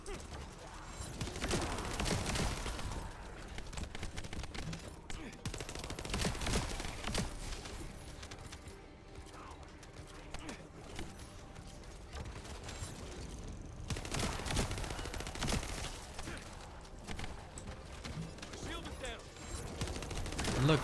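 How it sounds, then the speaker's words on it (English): A Thunder Cage weapon blasting enemies in a looter-shooter while mobbing and farming on hard mode: dense, continuous bursts of gunfire and impacts layered over busy game noise, with a voice talking throughout. "get in there and blast. That's what you want to do with the Thunder Cage"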